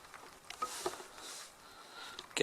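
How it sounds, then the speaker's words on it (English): Rain falling on a tent while wild camping in Scotland, a soft scattered patter of drops close overhead, faint and uneven, with a few louder taps near the end. "Well, there's the rain on"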